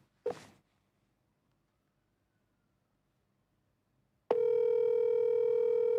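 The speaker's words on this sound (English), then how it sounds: "Which other show makes phone calls in the middle of the show?" A telephone ringing tone while a phone call is being placed: a brief click, several seconds of silence, then a steady, clear electronic tone that sounds continuously to the end.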